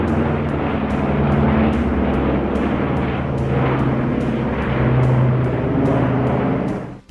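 An aircraft drones overhead above a wildfire, its propeller engine a loud, steady rumble with slowly shifting pitch, close and continuous throughout.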